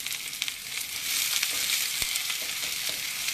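Vegetables for beef fajitas frying in a hot pan, a bright continuous sizzle with a few soft clicks and stirring knocks, close and steady with no talking.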